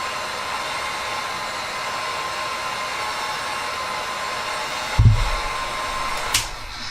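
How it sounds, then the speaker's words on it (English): A hot air blower shrinking heat shrink tubing on a custom action figure gives a steady, loud, even whoosh for several seconds, then a dull thump as it is switched off or set down. "Fixing the heat shrink tubing."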